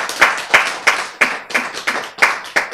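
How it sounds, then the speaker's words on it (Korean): An audience at a Korean science lecture on DNA repair claps in a slow, even rhythm, about eight loud, close claps spaced roughly a third of a second apart, with no speech. "박수 안 칠래요?"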